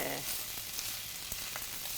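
Frying in a pan for a Bengali khud rice dish gives a steady, bright, close sizzle with faint stirring scrapes throughout, even in loudness.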